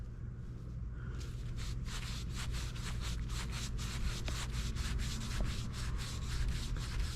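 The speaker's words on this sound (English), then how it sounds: "I sanded a lot on this with 220" A block of wood rubbed with 220 grit sandpaper for a rustic carved kitchen utensil, steady rhythmic back-and-forth scratching strokes, close and moderately quiet over a constant low hum.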